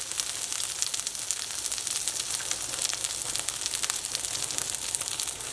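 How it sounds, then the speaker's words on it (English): Brussels sprouts searing in a hot pan give a steady, close, loud sizzle with constant crackling spits throughout and no talking. "Take the Brussels sprouts, put them down. We're going to cook these for about 3 to 4 minutes."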